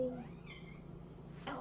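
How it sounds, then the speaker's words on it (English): A house cat gives a single short, quiet meow, close by in a calm room with faint background noise. "We have really nice kitties here, don't we?"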